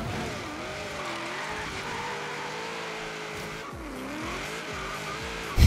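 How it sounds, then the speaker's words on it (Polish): A muscle car, a Dodge Dart in Forza Horizon 3, drifts with tires squealing over a steady engine drone, a sharp loud burst at the very end and no speech. "To jest muscle car."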